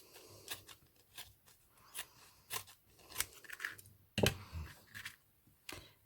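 Good-quality craft scissors handled at close range on a tabletop, giving a series of crisp clicks and snips at irregular intervals, with one louder sharp snap in the middle; no talk.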